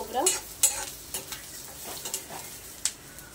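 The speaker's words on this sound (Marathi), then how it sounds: "खोबरं टाकून याला मिक्स करून घेऊया" A spoon stirs roasted masala with grated coconut in a hot pan, giving soft scraping strokes and light sizzling, with several sharp metallic taps against the pan edge.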